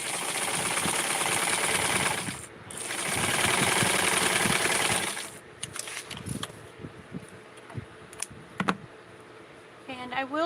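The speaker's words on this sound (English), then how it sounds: "I am going to put this through my serger" A serger sewing machine stitching dress fabric with white thread for a Halloween costume gives two close bursts of loud, steady high-speed whirring with a brief pause between. Scattered clicks and fabric handling noises follow once the motor stops.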